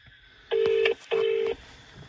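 A phone call being placed, with two steady ringback tones of about half a second each, separated by a short pause, heard clearly and alone.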